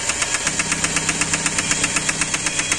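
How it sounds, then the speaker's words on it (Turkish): A BMW E46 318i Touring with the M43B19 four-cylinder engine knocks from a worn rod bearing, a fast, loud, evenly spaced metallic tapping over the rough idle, heard close up with no talk. "maalesef araba yatak vuruyor. Hem de inanılmaz bir şekilde."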